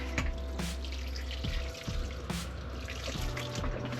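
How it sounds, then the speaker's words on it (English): Water is poured over freshly planted plants, with a quiet, steady trickle and soft drips at close range in a calm setting. "Just give them a little water."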